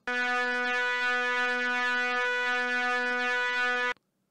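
A sustained buzzy synthesizer note with a strong resonant, nasal peak holds steadily for about four seconds, then cuts off abruptly.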